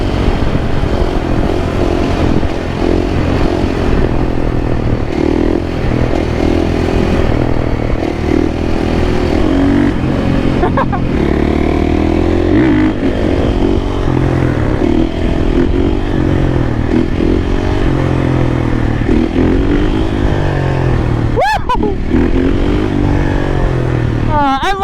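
A supermoto motorcycle rides under way with its engine droning loud and steady throughout, wind-buffeted, with a few rises in revs near the end.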